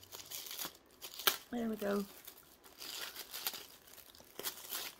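Plastic packaging from a Temu order crinkles and tears as it is cut open and unwrapped, close and moderately loud, with brief talk over the rustling.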